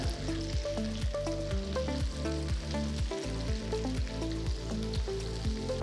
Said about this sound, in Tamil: நறுக்கி வச்ச கோவக்காயை சேர்த்து காய உடையாமல் நல்ல பொன்னிறமாக வதக்கிக்கோங்க